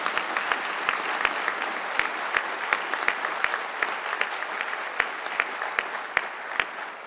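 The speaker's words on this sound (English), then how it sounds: "if we can give him a round of applause" Sustained applause from an audience at a Best Ranger awards ceremony, a dense wash of clapping with a few sharper, louder claps standing out at regular intervals, no voices over it.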